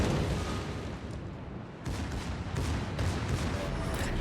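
Naval artillery hits and gunfire in World of Warships, a dense rumbling barrage of booms with a short lull midway, then continuing heavy low thuds and crackling fire.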